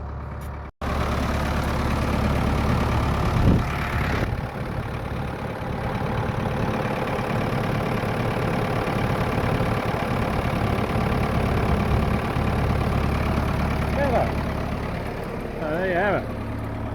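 A ute engine idles with a continuous, steady, mid-pitched rumble close by, with voices briefly audible over it.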